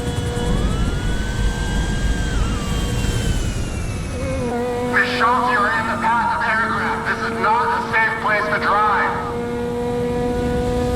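A jet engine starts up in the video game GTA 5, its steady whine and rising tones holding throughout, with game voices and effects briefly layered on top in the middle.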